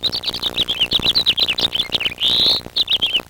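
House finches at a backyard feeder give a rapid run of high, bright chirps and warbling notes, close and lively, with one longer sweeping call partway through.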